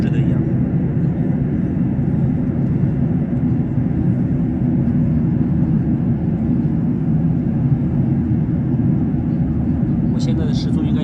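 Steady, loud airplane cabin roar during cruise flight above the clouds on a trip departing Quanzhou, a continuous low engine and airflow drone with a soft voice briefly under it.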